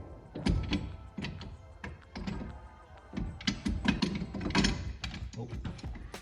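Fender roller tool being fitted onto a car's wheel studs, giving irregular metallic clanks, clicks and ratcheting knocks close by in short bursts, with brief quiet gaps between them.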